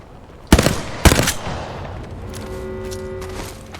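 Gunfire in the video game Apex Legends: two sharp, loud shots about half a second apart, followed by sustained ringing tones and background game ambience.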